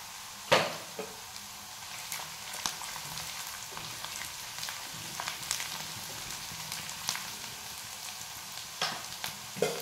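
Masala and garlic sizzle in a hot pan as stuffed brinjal is cooked, with a steady fry hiss broken by several sharp spoon scrapes and stirring clicks, close and moderately loud, no voices.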